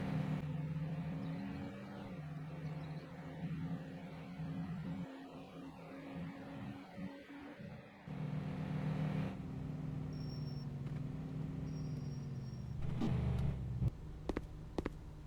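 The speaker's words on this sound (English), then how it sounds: "Gonna jump in our pickup truck here." A pickup truck in Denizen Life Simulator drives along with a low, steady engine hum and whir, rising in revs partway through, while faint beeps and clicks are heard toward the end.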